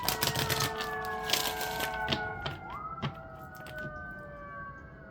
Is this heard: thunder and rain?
no